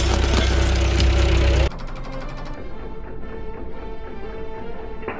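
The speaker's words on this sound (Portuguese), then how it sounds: "O problema é que o trator faz muito barulho." A tractor engine runs with a rough, knocking mid-pitched drone, preceded by a loud, broadband burst that cuts off sharply, then the engine continues steadily alone.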